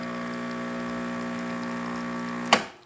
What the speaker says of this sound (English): we still got a nice color coffee coming out of this machine.